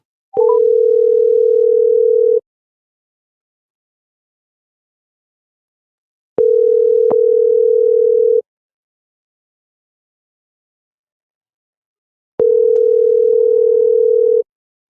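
Telephone dial tone during a phone call, a loud steady pure tone sounding in three separate bursts of about two seconds each, spaced by long silent gaps, with no voices.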